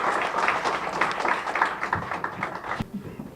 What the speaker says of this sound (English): May you please clap for him.